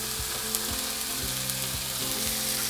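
Blueberries sizzle in a hot pan for banana pancakes, a loud continuous close fry with a dense crackling hiss and soft rhythmic stirring scrapes, no voices.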